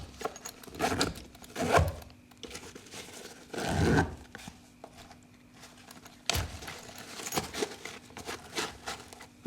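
The double zippers on the main compartment of a Maxpedition waistpack are pulled open. There are several quick rasping zips in bursts with short pauses between them, close and fairly quiet, with no talking.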